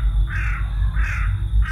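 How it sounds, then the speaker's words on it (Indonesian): Crows caw in a radio drama night scene, three harsh, evenly spaced calls over a low, steady rumble of night wind. "disusul suara burung-burung malam yang berterbangan"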